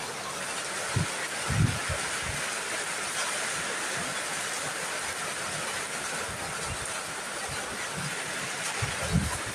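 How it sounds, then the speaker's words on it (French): Steady, dense hiss of heavy rain pouring down, continuous and loud, with occasional low thumps and bumps nearby. "il pleut abondamment"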